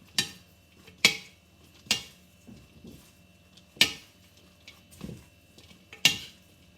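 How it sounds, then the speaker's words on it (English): Salad of fennel, apple, asparagus and red chicory being tossed with dressing in a bowl, with sharp clinks of utensils against the dish recurring every second or so, close and distinct over quiet soft rustling. "Mix it all up."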